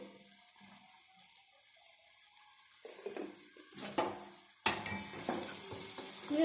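Mustard-seed tempering for a Kannada buttermilk sambar sizzles and crackles in a pan while a spoon stirs it, with turmeric and salt just added. It starts soft and scraping, then bursts into a louder, close, spitting fry near the end.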